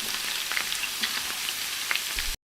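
Garlic sizzles in a hot pan, a dense continuous crackle with scattered pops and stirring scrapes, close and steady until it cuts off abruptly near the end.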